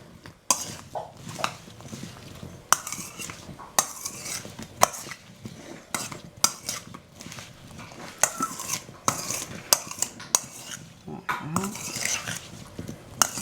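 Strawberries stirred with a utensil in a bowl, giving close, irregular scraping and sharp clinks of metal against the dish in uneven bursts.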